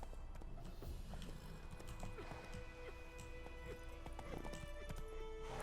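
A horse gallops in The Witcher 3, rhythmic clip-clop hoofbeats running steadily throughout, with an occasional whinny, game music and a faint voice in the background.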